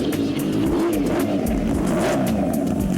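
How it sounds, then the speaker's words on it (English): A Kawasaki H2R supercharged motorcycle revved out on a race track, a loud continuous engine roar rising and falling in pitch through the whole stretch, with no voices. "see and hear this beast of a bike being revved out on the track"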